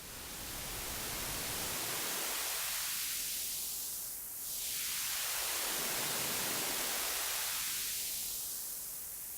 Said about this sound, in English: we have our white noise generator patched into the high-pass filter